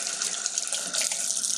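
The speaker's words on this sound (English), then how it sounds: "Go ahead and rinse that" Tap water streams steadily over a resin bonded sharpening stone as it is rinsed, giving a constant close splashing hiss with no talk.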